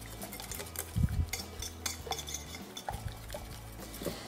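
A whisk clinks and scrapes against a bowl while mixing dark chocolate cake batter with cocoa powder, soft irregular strokes with a louder clattering burst near the start, close and alone.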